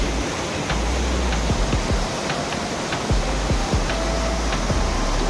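Water of the Chaulabhoja waterfall in Mayurbhanj pours down in a steady, loud broadband rush that runs unbroken throughout, with faint low thumps and no voices.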